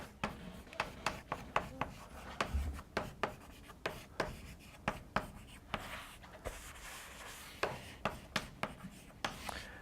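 Chalk or marker strokes tap and scrape across a board in a quick, irregular rhythm during a lecture, each stroke a sharp tick followed by a short rub, fairly close and faint.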